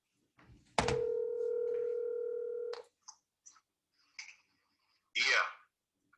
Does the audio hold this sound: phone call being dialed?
yes